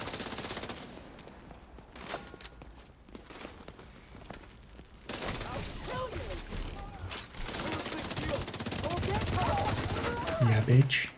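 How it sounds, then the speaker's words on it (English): Rapid bursts of automatic shotgun fire in a video game rattle out in the second half after a quieter stretch, loud and close, with a voice talking over the action. "Somebody stands up with an automatic shotgun."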